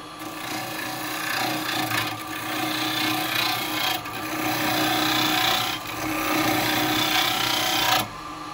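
Carbide tool rough turning wet wood on a lathe, a continuous broadband rasping scrape of the cutter against the spinning green blank, steady and close with brief dips as the cut eases off.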